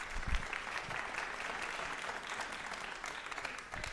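A middle school band concert audience claps steadily and evenly for a few seconds, a dense sustained applause with no voices over it.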